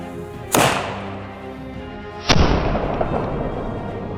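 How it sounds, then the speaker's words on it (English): Two loud, sharp blasts from a black powder 53 caliber hand cannon loaded with a .45 caliber ball and 60 grains of powder, each a close booming crack followed by a rolling echoing tail. "we got loaded up the 45 cal ball, 53 caliber hand cannon, and 60 grains of powder"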